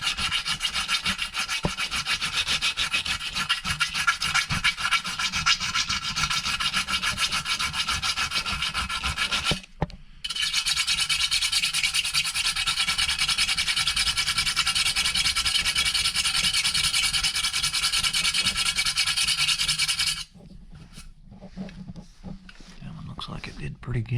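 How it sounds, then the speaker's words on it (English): A small jeweler's file rasps across stainless steel trim on a 1955 Chevy in long, continuous scraping strokes, loud and close, with a brief break near the middle and the filing stopping toward the end. "take this little jeweler's file and go across this right here like this"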